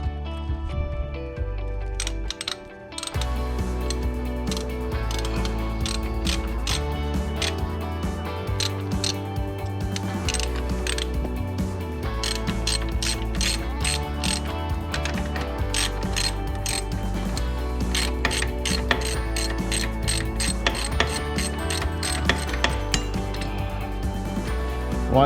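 A ratchet wrench clicks rapidly and continuously while turning a nut on a tie rod of a Kawasaki Brute Force 750 ATV, loud and close, with brief pauses between runs of clicks.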